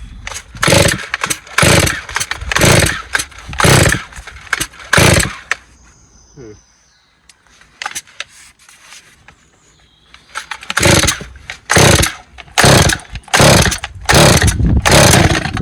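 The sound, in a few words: chainsaw being pull-started, Husqvarna 136 or Stihl 023c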